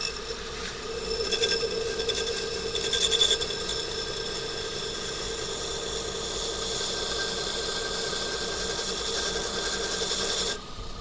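A belt grinder works a knife bevel in steel, a sustained close abrasive rasp over a droning motor, briefly swelling louder in the first few seconds before cutting off sharply near the end; no voices.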